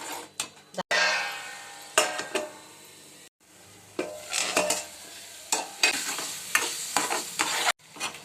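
Coconut masala paste frying in oil in a pan for a home-cooked vegetable curry, stirred with a spoon in repeated scraping bursts over a steady sizzle, with brief pauses between strokes and no one speaking.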